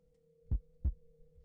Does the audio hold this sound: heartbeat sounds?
yes